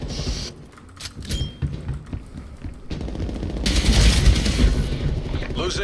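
Gunfire in the video game Call of Duty Black Ops Cold War multiplayer, bursts of rifle shots and sharp cracks with a heavier volley of rapid fire later, mixed with game effects.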